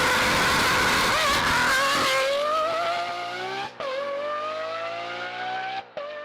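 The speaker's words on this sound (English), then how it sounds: "Does your hair raise at the sound of its monstrous V12?" Lamborghini V12 engine at high revs, a loud, sustained harmonic howl that climbs gradually in pitch, briefly cut twice as the throttle lifts or the gear changes, with no speech.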